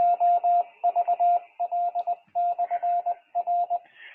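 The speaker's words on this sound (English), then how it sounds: "That's a Morse code identifier for another repeater that's local." A local ham radio repeater sends its Morse code identifier as a clean, steady tone keyed into quick dots and dashes in several tight groups, loud and clear over a faint background hiss, with no talking.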